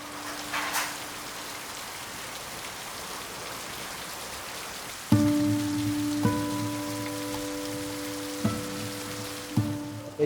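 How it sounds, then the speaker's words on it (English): Heavy monsoon rain falling outside a small tea shop in Amboli in the Western Ghats, a steady even hiss throughout, joined halfway by a sustained electronic tone with a few sharp clicks. "But the one thing that hasn't changed is the rain."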